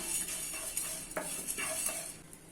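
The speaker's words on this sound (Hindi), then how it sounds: "अभी इसमें 2 चम्मच कोरिएंडर सीड्स ऐड कर लेना है और 1 चम्मच जीरा ऐड कर लेना है और इसको मीडियम फ्लेम पे ड्राई रोस्ट कर लेना है" Coriander seeds and cumin being dry roasted in a pan over a medium flame, with a spoon scraping and clinking against the metal in quick, uneven strokes and light rattling of the seeds, close and without voices.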